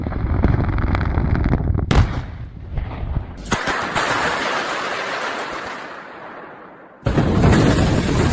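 Loud, thunderous explosion blasts with debris flying, several booming bursts and a long rumbling roar that fades before another sudden blast hits hard near the end.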